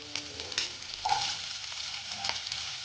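Cut potatoes and onion frying in hot oil with asafoetida give a moderate, continuous sizzle, with soft clinks and scraping from stirring.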